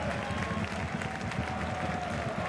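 Stadium crowd applauding at a third-division football match between SSV Ulm and Jahn Regensburg, a steady dense wash of clapping and crowd noise throughout, fairly distant and even in level.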